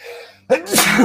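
One sharp, close sneeze with a quick breathy intake before it, loud and sudden, heard on its own.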